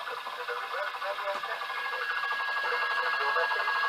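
A Bachmann Class 150 model train with DCC sound plays its radio test call, a muffled radio voice over a steady hiss with a thin high tone, faint and continuous.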